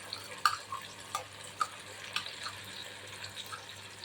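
Tomatoes and ground masala sauté in oil for a capsicum bhaji, with a spoon scraping and stirring in short, irregular strokes over a faint, steady sizzle.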